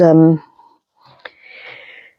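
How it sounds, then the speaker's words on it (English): Sniffing through a runny nose from hay fever: a short breathy, congested sniff close up, following a brief spoken word. "I'm trying desperately not to keep sniffing too much."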